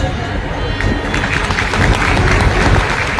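A devotional gathering at a Vedic Shri Ram festival in Karnal breaks into loud communal clapping, a dense, building roar of many hands with crowd murmur underneath.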